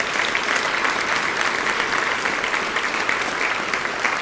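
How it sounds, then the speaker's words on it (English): Sustained audience applause fills a Rotary Club meeting after scholarship awards are announced, a dense, steady wash of many hands clapping at an even level from start to finish. "if you could give them a round of applause"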